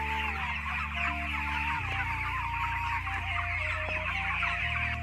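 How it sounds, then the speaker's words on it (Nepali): A flock of chickens in a poultry farm clucks and murmurs continuously, a dense overlapping chorus of birds at close range, steady throughout with no talk. "कुखुरा चाहिँ यसरी फार्ममा हालेको छु है।"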